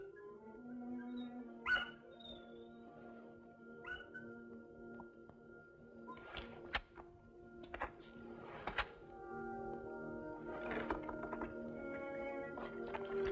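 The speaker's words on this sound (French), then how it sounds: "Puis les chiens qui aboient joyeusement comme pour fêter l'arrivée de quelqu'un qu'ils connaissent bien." Dogs bark at night in an ancient Greek countryside setting, several short yips and barks scattered through the scene over a steady low ambient drone, mid-distance and fairly clear.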